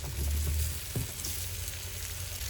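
Onion, carrot and bell pepper frying in a cauldron over an open fire outdoors, a dense, steady sizzle with a low crackle underneath and no talk.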